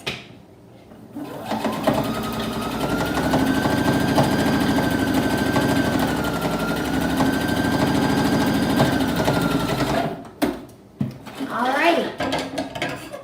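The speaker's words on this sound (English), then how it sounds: "you're just sewing straight seams." Sewing machine stitching straight seams on a fabric face covering, a close steady mechanical whir with rapid needle clatter running for about eight seconds, then stopping with brief handling sounds.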